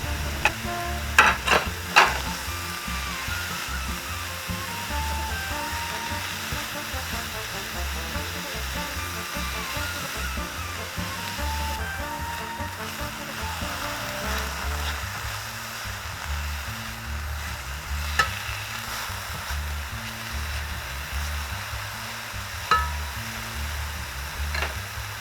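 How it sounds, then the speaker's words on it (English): Onions, mushrooms and garlic frying in hot oil in a pan, a steady close sizzle and hiss with a few sharp clinks of stirring, no voices. "Toss in our mushrooms and garlic."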